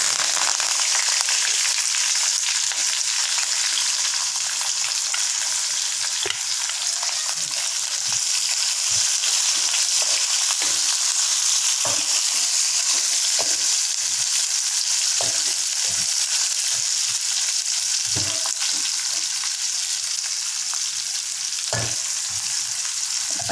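Onions frying in a pan with curry leaves for a raw jackfruit stir-fry, a steady close sizzle with occasional stirring clicks and scrapes throughout.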